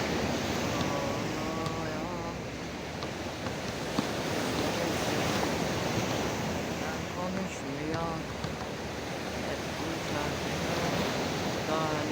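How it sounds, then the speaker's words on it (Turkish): Wind blows in a constant broadband rush, loud and close, with a voice faintly talking or singing underneath at times. "Rüzgar esiyor."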